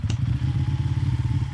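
Motorcycle engine idling steadily in a video game, a low rumbling throb that stays constant and close, with a brief click near the start and no talking.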